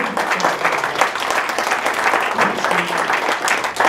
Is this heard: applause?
yes